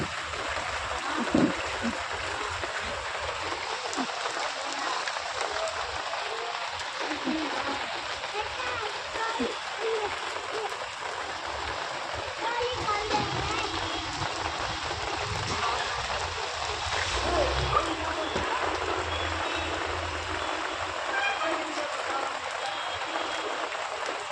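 Heavy rain pouring steadily on a Saturday, a dense continuous hiss and patter with splashing water, close and unbroken throughout.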